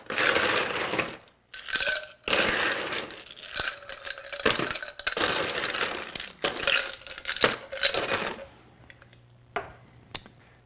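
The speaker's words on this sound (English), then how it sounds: "Now we're going to take a Collins glass and fill it with ice." Ice cubes tumble into a tall Collins glass with a run of bright clinks and rattles, several quick bursts over about ten seconds before things settle.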